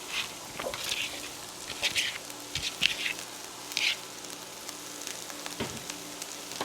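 Sliced cabbage and rinsed mixed vegetables sizzle in sesame oil in a pan, a soft continuous frying hiss broken by brief crackles and spatula taps, with no talking.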